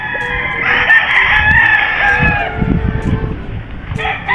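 A farm chicken with a straight comb crows loudly and close by in one long drawn-out call, followed by softer clucking and low background farmyard noise.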